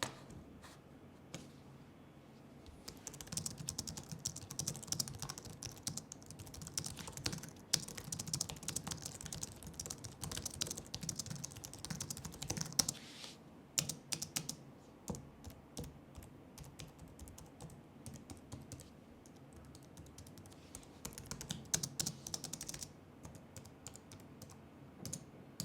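Keys clatter on a Microsoft Designer keyboard in quick, close bursts of soft clicks that rise and fall in runs of typing with short gaps between.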